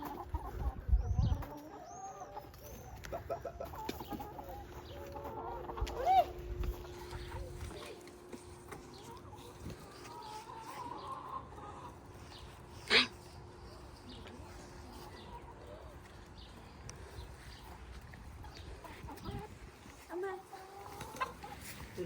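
Chickens cluck intermittently in a farmyard, with scattered calls and a sharp louder squawk midway, over low background noise and occasional movement.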